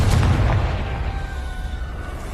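Confringo explosive spell in Hogwarts Legacy: a single loud blast at the start, then a ringing, decaying rumble with a faint tonal hum trailing off.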